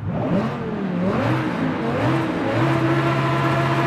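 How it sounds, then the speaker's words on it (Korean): A carbon-trimmed sports car capable of 0-100 km/h in 2.8 seconds and 339 km/h revs its exhaust hard, a loud, close engine note rising and falling in pitch with a steady throaty roar and no talk. "배기음"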